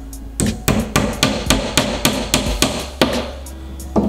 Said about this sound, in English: We can hammer that in real quick.